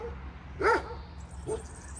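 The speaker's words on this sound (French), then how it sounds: "Arrête d'aboyer." A single dog barks sharply once, fairly close, then gives a softer yelp a moment later, with a quiet hum of room noise underneath.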